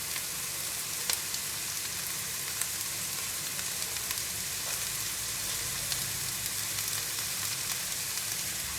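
Butterflied shrimp brushed with garlic oil fry in a pan, giving a steady, moderately quiet sizzle with faint crackles and small pops and no voices.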